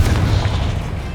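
A Confringo fire spell cast in Hogwarts Legacy: a brief, heavy low boom with a rumbling burst that fades quickly, loud and close, with no talking.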